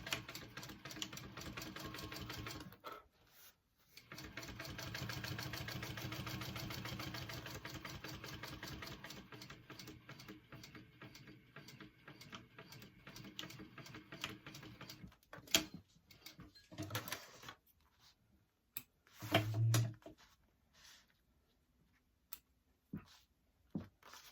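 A sewing machine top-stitching a hip bag runs in long, steady mechanical bursts with a rapid ticking, pausing and then restarting in shorter stitching runs near the end.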